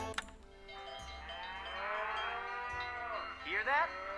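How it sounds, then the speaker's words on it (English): Cattle moo on a ranch in a Nancy Drew video game, one long drawn-out low moo rising and falling, followed by a second shorter call, heard clearly and alone. "That's the sound of happy cattle, healthy cattle"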